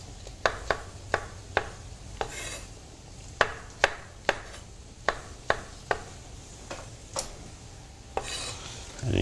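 A kitchen knife chops mushrooms on a cutting board in a series of crisp, close taps that come in irregular bursts, with short gaps between strokes and no talking.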